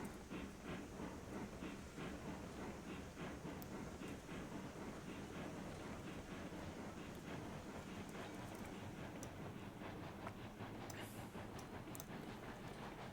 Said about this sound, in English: the train seems to be coming along